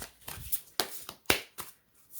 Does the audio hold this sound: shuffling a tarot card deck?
yes